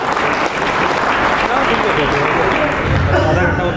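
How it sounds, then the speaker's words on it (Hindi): A crowd at an outdoor Hindi poetry recital breaks into loud, sustained applause that fills the whole stretch with dense, even clapping. "जोरदार ताली बजाइए।"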